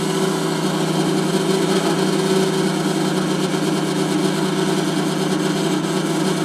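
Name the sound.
space heater motor running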